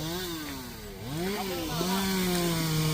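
A chainsaw revs and bogs as it cuts into an old roadside tamarind tree, its engine whine rising and falling in pitch over a few seconds, fairly close and loud without speech.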